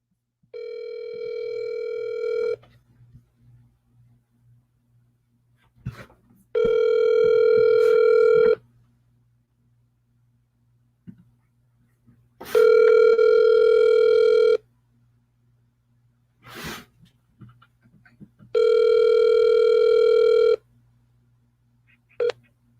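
A telephone gives a steady dial tone, then a run of keypad touch tones as a number is dialed, followed by repeated ringback tones in separate bursts with quiet gaps between.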